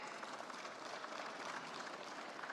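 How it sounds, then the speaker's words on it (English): Steady applause from an audience at the India Startup Festival 2023, a dense wash of clapping at moderate volume that holds evenly throughout without voices. "A round of applause for him."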